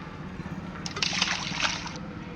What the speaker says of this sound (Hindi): एक पत्थर को तालाब के पानी में गिरा दिया